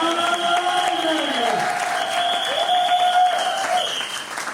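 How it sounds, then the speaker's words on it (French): Congregation at a wedding clapping continuously for the newlyweds, with held cheering and whistling tones rising and falling over the dense applause. "Est-ce que nous pouvons acclamer pour les mariés?"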